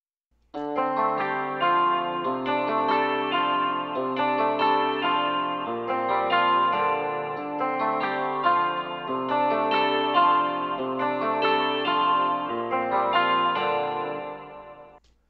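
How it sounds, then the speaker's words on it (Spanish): A looped electric guitar phrase with chorus, echo and slight distortion effects, steady and moderately loud, repeating the same shimmering chord pattern without any talk. "Vamos a escuchar un poco el loop de esta guitarra."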